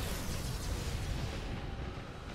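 A ship explodes in the Battlefleet Gothic Armada space strategy game, giving a faint, rumbling, broadband blast that sustains for a couple of seconds and tails off gradually, with no voices over it.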